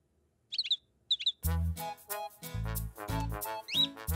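Cartoon birds chirp in quick high tweets that open the clip, then return briefly later beneath lively children's music and a character's voice in an animated French children's show about a zebra.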